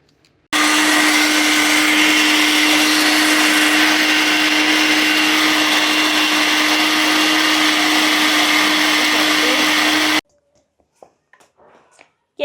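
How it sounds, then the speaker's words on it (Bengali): A blender whirs steadily for about ten seconds, blending soft cooked tomatoes into momo chutney, then cuts off abruptly, leaving a few quiet clicks and a brief voice. "তো ব্যাস এবার এগুলো ব্লেন্ডার করে নিতে হবে।"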